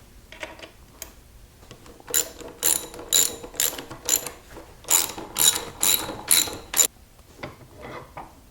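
Ratchet wrench driving 3/8 inch lag screws to fasten a Veritas quick release front vise base to a wooden workbench: several bursts of rapid, sharp clicking, fairly close, separated by short pauses.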